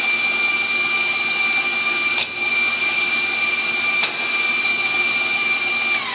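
Electric stand mixer beating eggs one at a time into sugar cookie batter, a steady whirring drone with a bright high hum throughout, broken by two brief knocks near the middle.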